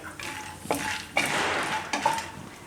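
Spiced peanuts being stirred in hot oil in a pan, giving a few close scraping and clinking strokes of a utensil against the metal over a soft frying hiss, with no talk.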